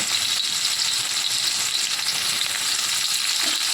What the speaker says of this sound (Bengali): পেঁয়াজটা দিয়ে আমি এটাকে একটু ভেজে নেব পেঁয়াজটা ভেজে নিচ্ছি